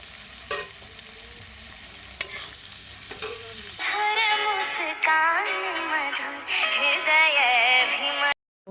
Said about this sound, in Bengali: এখানে আমি হলো যে পোলাওয়ের চালটাকে ভেজে নিচ্ছি হালকা করে